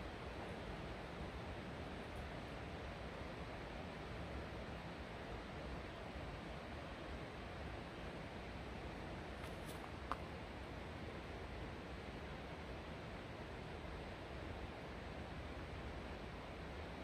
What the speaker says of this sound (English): You can hear the water run back here.